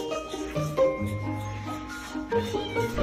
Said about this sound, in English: And it's like the little tiny meow.